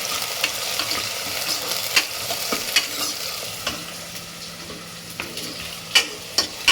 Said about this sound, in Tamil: ரெண்டு காஷ்மீர் மிளகாய், கொஞ்சம் வெங்காயம், இதெல்லாம் ஃப்ரை பண்ணிக்கிறேன்.